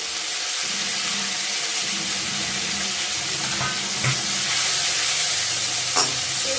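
Chopped tomato hits hot oil in a pan of rohu fish curry with whole cumin and ginger, a steady close sizzle with stirring scrapes and a couple of sharp clinks.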